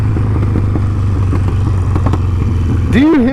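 A 2020 Harley-Davidson Sportster 48 engine rumbles steadily at close range during a ride, a continuous low throb with rattly mechanical detail, then a brief rising whine near the end.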